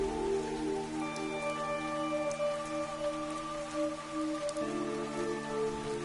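Steady rain falls in the video game Fantasian Neo Dimension, a constant soft hiss of drops that runs the whole time beneath sustained, gentle musical tones.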